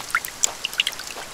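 Rain in the video game The Forest, scattered light drips and patters with small splashes, close and fairly soft, sounding like a trickle more than a downpour.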